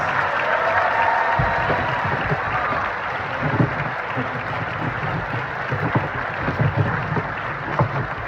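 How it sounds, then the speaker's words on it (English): Applause from an audience at a district school concert, steady dense clapping filling the whole stretch with a few louder claps near the front, a broad crowd wash without speech. "Please, one more round of applause to these and all the students."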